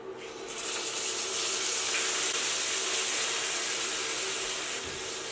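Seabass fish frying in hot oil and butter gives a steady, loud sizzle and hiss that holds for several seconds, with no talking.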